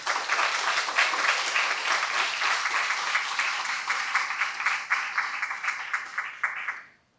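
An audience at a university debate on AI welcomes the debaters with a sustained round of dense applause that holds steady, then thins into scattered claps and fades out at the end.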